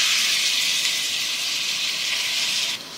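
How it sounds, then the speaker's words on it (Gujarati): Grated bottle gourd hits hot ghee with a loud, steady sizzle, a bright hissing fry that holds evenly for a few seconds, then drops away abruptly near the end. "જે દૂધીનું છીણ છે એને આ ગરમ ઘીમાં શેકી લેવાનું છે."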